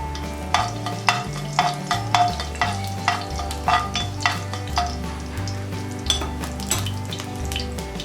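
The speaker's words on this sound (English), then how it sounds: "Now add half tablespoons of cumin seeds." Cumin seeds crackle in hot oil, with sharp spattering pops and regular clinks of a spoon stirring against the pan, fairly close and without speech.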